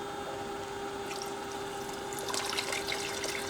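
Water runs through a mixing valve on a 5-gallon bucket system, a steady rushing flow with a constant pump hum that grows splashier partway through.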